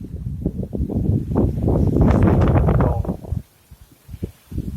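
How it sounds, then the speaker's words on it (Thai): Strong, cold November wind gusts through a mango tree in flower, a broad rushing roar that swells and peaks midway, then drops to a lull before picking up again. "ลมลมมาแรงลมออกเต็มต้น"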